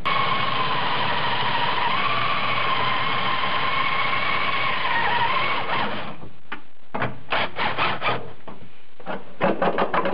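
A drill bores out spot welds in the rear passenger floor sheet metal of a 1976 Mazda RX-5 Cosmo under restoration, whining steadily for about six seconds and then in several short, close bursts.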